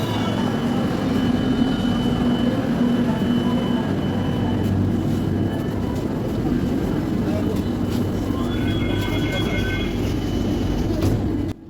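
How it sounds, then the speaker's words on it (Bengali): A Kolkata underground metro train leaves Esplanade station for Rabindra Sadan with a loud, steady rumble, and a rising electric motor whine emerges near the end. "দরজা বন্ধ হয়ে গেল, মেট্রো চালু হয়ে গেল স্প্ল্যানেড থেকে রবীন্দ্র সদন যাওয়ার জন্য।"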